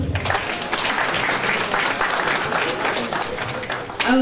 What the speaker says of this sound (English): A big round of applause for Mkhatane High School.